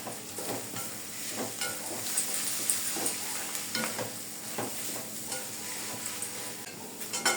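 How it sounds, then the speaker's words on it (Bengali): Egg and vegetables are stir-fried together in a pan for a noodle dish. A steady sizzle runs under repeated scraping strokes of a spatula, close and moderately loud. "এখন এই সবজিটার সাথে আমি মিক্সড করে দেব।"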